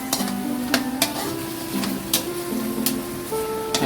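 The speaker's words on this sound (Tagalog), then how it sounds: "Haluin lang muna ng haluin." Chicken adobo is stirred in a pan, with scraping utensil strokes over a steady sizzle and a few sharp clinks against the pan, close and moderately loud.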